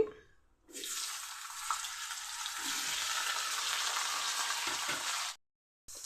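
Potato and carrot pieces hit hot oil seasoned with panch phoron and burst into a loud, steady sizzle that holds for several seconds before stopping abruptly.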